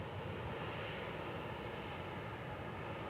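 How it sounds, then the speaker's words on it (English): A rare aircraft passes at Kansas City International Airport, a steady, loud broadband engine roar that holds evenly throughout with no voices. "Yes, it is a rare aircraft,"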